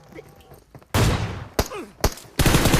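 Video game gunfire in loud, sharp bursts: a long volley, two short shots and then another sustained burst, with quiet gaps and faint background chatter between them.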